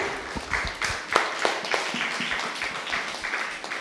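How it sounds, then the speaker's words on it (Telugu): Applause from a congregation at a Telugu Catholic sermon, a steady patter of many hands clapping together at moderate loudness, sustained for several seconds with no voices over it. "గట్టి చప్పట్లు కొట్టండి, గట్టి కొట్టాల"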